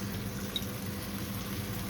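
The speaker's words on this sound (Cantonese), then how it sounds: "咁我哋再俾鑊尾油嘅" Finishing oil added to a wok at the end of stir-frying water spinach with shrimp paste, heard as a steady soft bubbling, boiling-like hiss with a low continuous kitchen rumble, no voices.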